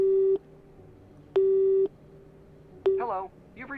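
Phone call tone in the video game Nancy Drew: Midnight in Salem: a steady mid-pitched beep repeating about once per second, three tones, with a voice starting to speak just after the last one.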